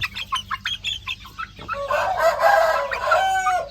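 Chickens cluck in a run of short, close calls among three-month-old Thai game-fowl chicks, then a rooster crows loudly in a long, drawn-out call that fills the second half.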